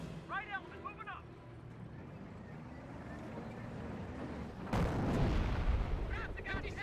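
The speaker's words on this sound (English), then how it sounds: "Incendiary mortar there." Incendiary mortar fire in the strategy game Company of Heroes, heard as a dull booming blast with a rumbling wash midway, under ongoing commentary.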